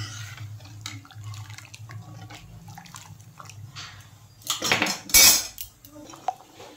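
Metal spoon scrapes and clinks against a pot while stirring Sri Lankan style kuttu dal, soft at first, then louder clattering bursts near the end, with faint watery sounds.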